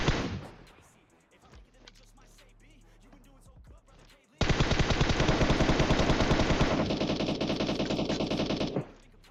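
Rapid automatic gunfire in PUBG Mobile: a short burst, a lull with faint clicks, then a long sustained spray of loud shots that cuts off abruptly.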